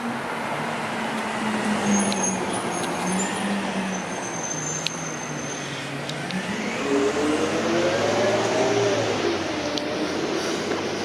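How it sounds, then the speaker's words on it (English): A blue and yellow garbage truck drives along a city street in Toronto's East York, its engine rumble and rising tonal whine passing close by over steady traffic noise on a mild winter day. "It's a black and yellow, blue and yellow garbage truck."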